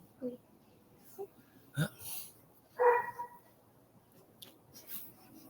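A dog whimpers and lets out soft, strained yips and half-swallowed woofs in a quiet room, a few short bursts scattered over several seconds as it holds back a bark.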